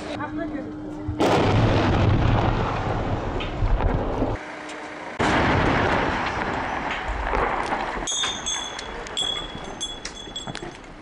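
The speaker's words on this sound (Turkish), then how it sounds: "Bomba yüklü araç öyle bir patladı ki yer yerinden oynadı." A powerful blast erupts suddenly, followed by a roaring, rumbling aftermath and wind buffeting, then a sharp metallic rattle of debris near the end.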